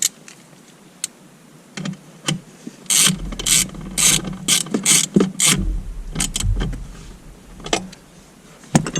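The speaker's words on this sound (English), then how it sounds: "we're going to put this front bracket on first to be sure not to lose the bolt." Hand ratchet tightening a bolt on a Porsche Cayenne battery bracket: a run of close, sharp clicking strokes in irregular bursts, with metallic taps and pauses between them.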